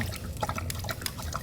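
Water pours into a cup beside a hot campfire on a vanlife trip in Haida Gwaii, a soft, steady trickle with small splashes and drips, close and fairly quiet.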